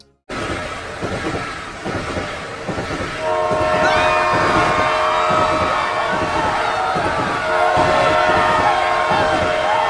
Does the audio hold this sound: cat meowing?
no